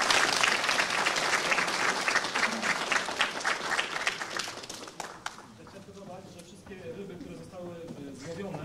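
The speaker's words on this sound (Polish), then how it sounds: "wielkie brawa" At a police day ceremony, a crowd applauds the winners with dense clapping that fades after about five seconds, giving way to murmuring voices and talk.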